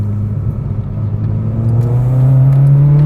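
A Renault Clio engine revs up steadily, its rising exhaust note loud and close, a smooth climbing drone with no voices.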